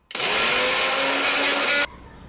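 A mixer grinder crushes green chilies, curry leaves and coriander in one loud, steady whirring burst of about two seconds that cuts off sharply.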